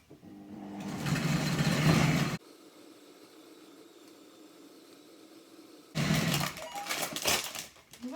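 A food processor chops meat with salt, pepper and egg, its motor whirring loudly in a burst of about two seconds, then a quieter hum, then a second rough, churning burst near the end.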